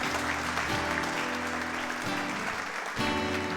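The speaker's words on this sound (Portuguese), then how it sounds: "Mais alto, você pode aplaudir mais alto" A church congregation claps steadily and continuously, a dense wash of applause with music faintly underneath, swelling slightly near the end.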